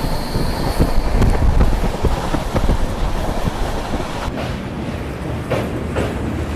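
Delhi to Jammu Duronto Express running on Indian Railways track, a steady close rumble with rhythmic clickety-clack of wheels and wind buffeting the microphone, continuous throughout with no talk.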